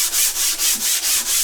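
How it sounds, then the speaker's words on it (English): A 100-grit sanding block rubs back and forth over painted metal in six even, rhythmic strokes, a close, scratchy rasp with no talking. "rub it with my sanding block until all of the rust disappears"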